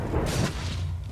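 A TNT block explodes in the video game Minecraft Dungeons: one short, heavy boom with a broad blast that fades into a low rumble, loud and close.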